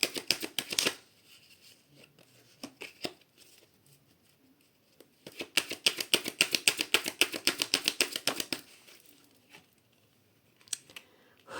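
A deck of tarot cards is shuffled in rapid riffling bursts of dense papery flicks, close and fairly soft, with pauses between rounds and no talk.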